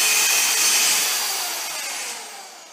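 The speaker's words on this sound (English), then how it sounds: "See where I'm about to drill?" Power drill boring a hole for an aquarium pipe, a close steady high whine with grinding that stays loud and alone, then slowly fades over a couple of seconds.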